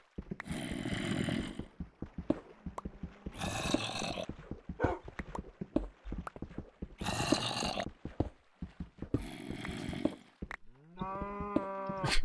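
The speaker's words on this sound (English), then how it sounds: "Cows?" Cows moo repeatedly in long, deep, loud calls that come in a slow rhythm with short gaps between them, heard close by in an outdoor setting, with rustling and scattered knocks between the calls.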